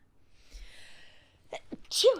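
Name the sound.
sneeze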